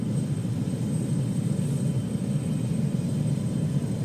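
A BAE-146 airliner in Microsoft Flight Simulator 2020 on landing approach, its engines a steady, dense low roar with a faint high whine above it, unbroken and even the whole time, with no voices.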